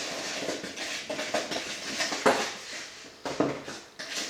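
Flour and sugar stirred together in a bowl for pâte brisée dough, with a steady run of light scraping and clinking of utensil against the bowl, close and moderately loud, with a few sharper knocks.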